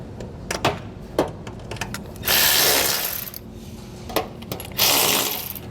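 Ratchet wrench tightening the nuts that hold a heat shield in place during a Curt trailer hitch install on a 2021 Mercedes, with quick clicking bursts and longer rasping pulls, fairly close, no talking.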